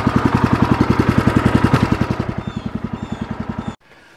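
A small engine on a portable sawmill idling while it warms up before the blade is spun, heard as a steady, loud, rapid chugging pulse that tapers off and cuts out abruptly near the end.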